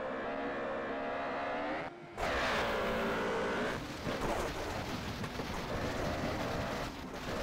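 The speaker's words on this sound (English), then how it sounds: "This is about as fast the Peugeot goes." A Peugeot S2000 rally car at speed on a Coffs Harbour rally stage roars loud and near, with a brief gear-change dip and then a sustained high-revving engine note.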